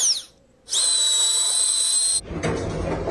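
A voice imitates a drill with a sustained, high, whining whistle lasting over a second, starting after a brief gap and cut off abruptly by other noise.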